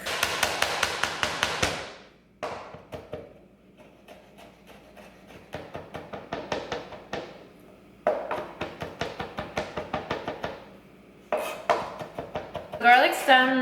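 A knife chops a large garlic clove on a kitchen cutting board, a rapid run of sharp close taps that slows into irregular clusters of knocks, with a brief clatter at the end.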